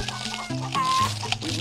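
Chickens cluck in a Roblox game scene (Totally Roblox Battle Simulator), layered over music and other busy effects, with a brief high whistle-like tone in the middle.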